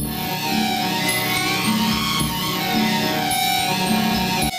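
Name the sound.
sonified tone of sodium fluoride, combined sodium and fluorine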